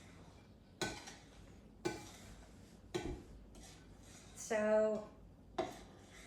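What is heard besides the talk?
mixing banana bread batter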